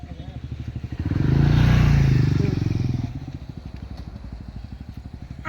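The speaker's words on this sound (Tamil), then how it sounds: "பைக் வருது." A motorcycle engine rumbles closer, swelling loud as it passes nearby, then settles into a steady idle-like putter.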